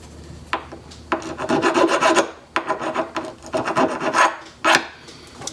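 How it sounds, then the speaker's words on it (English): Hand file rasping along a lock key to remove burrs, a series of close, loud scraping strokes in an irregular rhythm with short pauses between them. "I'll probably take my file here and just go around a little bit just to make sure that all the burrs."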